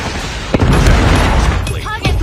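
A missile explodes in the Skull and Bones naval video game, a loud rumbling boom with crackling debris and sharp bursts, with a voice speaking in the mix.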